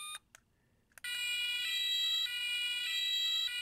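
A couple of brief clicks, then a Playmobil toy fire truck's electronic siren starts up and wails continuously in a high, bright repeating tone.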